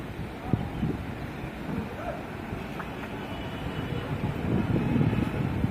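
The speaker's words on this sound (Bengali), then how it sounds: "দেখেন কত বাতাস, কাপড়টা বেশি জোরে নড়তেছে না কিন্তু অনেক বাতাস এখানে" Strong wind gusting across a rooftop garden under a cloudy sky, a steady broadband rush that swells louder toward the end, with brief faint voices in the background.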